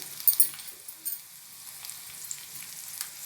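Ginger, green chillies and curry leaves fry in hot oil for a tempering, giving a soft crackling sizzle with a few sharp pops near the start, fairly faint and close.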